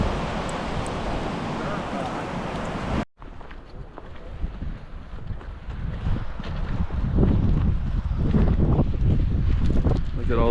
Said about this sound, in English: You can see it's super windy.